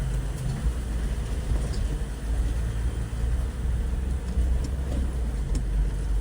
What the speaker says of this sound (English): And this is the diesel with the 8-speed.